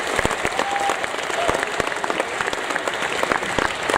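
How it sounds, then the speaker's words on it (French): An audience applauds continuously at a private annual-pass evening show at Disneyland Paris, the clapping dense and steady throughout, with a faint tone briefly audible under it. "On peut applaudir Aurélien,"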